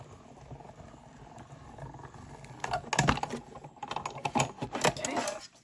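Embossing folder cranked through a die-cut machine with plate number 4: quiet rustling at first, then a burst of clicking, grinding and rattling as the plates roll through, close and uneven, lasting a few seconds.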